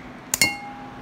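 Two quick bright clinks of glass struck in succession, followed by a short ringing tone that lingers and fades.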